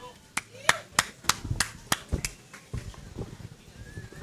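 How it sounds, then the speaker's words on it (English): Sparse, scattered hand claps from a small group at a surf contest prize-giving for under-14 boys, a few sharp separate claps then fading, faint and somewhat distant. "Let's hear a round of applause for these under 14 boys."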